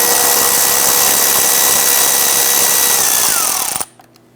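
A power tool whirs loudly and steadily as it backs out 8mm screws along the bottom of a 2011-2019 Ford Explorer radiator. Near the end the motor winds down, and the sound cuts off sharply into near silence.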